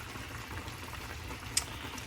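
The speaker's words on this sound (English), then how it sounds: "We're going to let this water come to boil a little bit more." Water heating toward a boil in a cooking pot on a kitchen stove, a soft, steady bubbling and hiss with one brief sharp tick partway through, quiet and with no talking.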